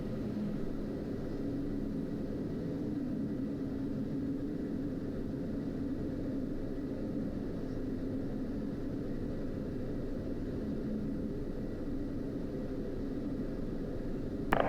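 Inside the cockpit of a Pilatus PC-12 turboprop while it taxis, a steady, muffled engine drone and rumble holds evenly throughout at moderate level, with no speech heard.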